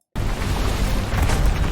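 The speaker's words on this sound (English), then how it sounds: "That was such a terrible explosion effect." A video game trailer explosion bursts in abruptly from silence and holds as a loud, dense roar of noise without any clear decay.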